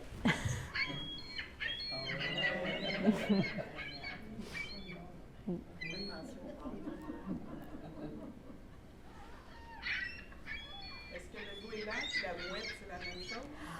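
A recording of gull cries plays during a bird talk: shrill, squawking, laugh-like calls repeat throughout at a moderate level over a busy background.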